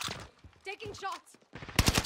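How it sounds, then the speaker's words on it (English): Gunfire in a shooter video game, a dense burst of loud shots near the end after a stretch of excited talk, with voices over the top. "Taking shots!"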